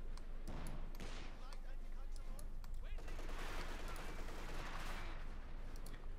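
MG-34 machine gun fire in Company of Heroes 2 rattles in dense, continuous bursts amid a busy battlefield mix of gunfire and impacts, steady and loud throughout.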